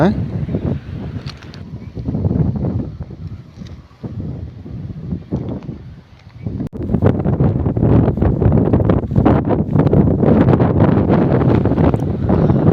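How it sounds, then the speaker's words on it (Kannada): Strong gusting wind batters the microphone on the Z Point mountain trek at Kemmannugundi, rising and falling in loud bursts. The roar grows heavier and more constant in the second half. "ಸದ್ಯ ಈ ಗಾಳಿ ನನ್ನನ್ನು ಒತ್ಕೊಂಡು ಹೋಗದೆ ಇದ್ರೆ ಸಾಕಾಯ್ತ ಮರೆ"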